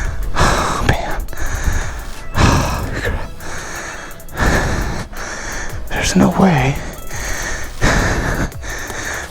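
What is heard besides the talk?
heavy breathing after running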